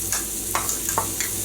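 Onions frying in a pan with ginger, garlic and curry leaf paste, a steady close sizzle broken by a few light scraping stirs.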